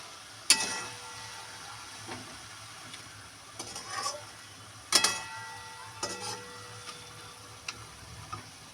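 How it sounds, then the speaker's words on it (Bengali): Spiced fish frying in a pan with onion and garlic, a quiet steady sizzle broken by a few sharp clinks and scrapes of a utensil, close and without talk. "এবার আস্তে আস্তে ভাজা হবে, আর পেঁয়াজ রসুনটাও কিন্তু ভাজা হবে"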